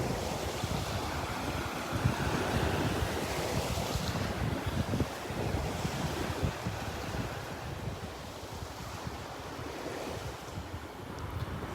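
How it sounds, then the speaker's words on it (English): Gulf of Mexico surf washes onto a beach in North Naples, Florida, a continuous roar of breaking waves mixed with gusty wind buffeting the microphone, steady throughout with no voices. "Love the sound of the waves."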